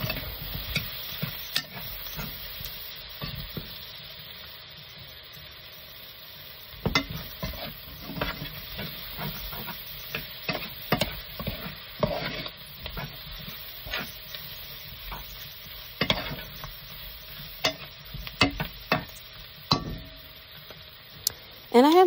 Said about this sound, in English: Go ahead and stir that around and let the garlic cook for just a couple minutes